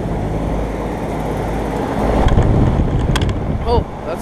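A 2007 Ruud Achiever heat pump with a Gentech fan motor runs in heat mode, its big outdoor fan producing a loud, steady whooshing roar up close, like wind buffeting, with a few faint higher squeaks near the end.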